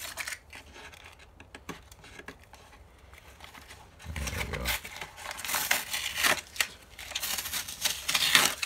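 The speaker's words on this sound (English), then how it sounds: "Alright, try to peel this off." Backing film being peeled off a panel in an RV trailer utility room, heard up close as crinkly, tearing rasps that start soft and grow louder and more continuous in the second half, with no talking.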